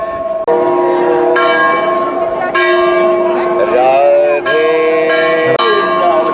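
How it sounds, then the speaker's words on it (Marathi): A metal temple bell hangs at the entrance of the Mahasati Anusuiya temple in Chitrakoot and is struck again and again, each loud ringing tone carrying a long, humming sustain before the next strike. "हा जो घंटा इथे बांधलेला आहे याला वाजवून आपण आत प्रवेश करूया"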